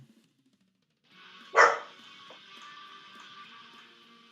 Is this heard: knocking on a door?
no